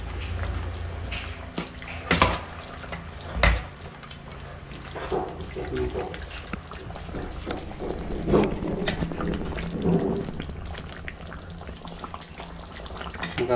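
Kerala-style country chicken curry with coconut pieces is stirred in a pan. Spoon scrapes and knocks come at irregular intervals over a soft sizzling, wet bubbling sound, close by, with no talking.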